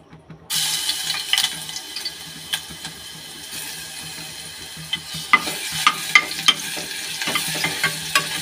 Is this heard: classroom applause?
no